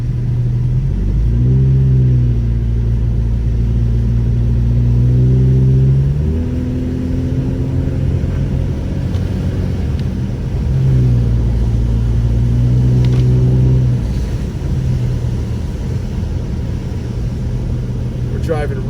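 A car cruises along a lakeside road in wet weather, its engine rumble rising and falling through gear changes under steady tire and road noise, with a voice talking over it.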